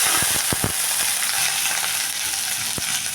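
Small onions frying in coconut oil with mustard seeds and garlic for a bottle gourd gravy: a steady, dense sizzle with several sharp crackles and pops near the start.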